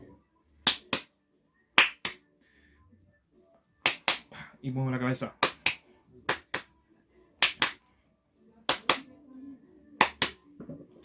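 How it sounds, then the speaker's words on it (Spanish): Sharp hand claps come in pairs, spaced by short pauses in a repeating rhythm pattern, with someone speaking Spanish in between and a brief voiced phrase in the middle. "mi patrón sería 2 aplausos y muevo 2 veces la cabeza"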